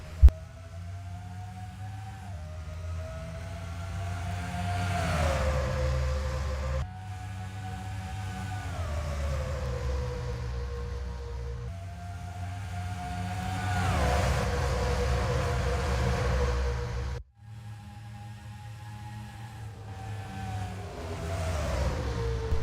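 NASCAR stock cars racing at Homestead in the 2007 Ford 500 season finale, a loud continuous engine roar with rising and falling pitch sweeps as the pack passes, dense and sustained throughout.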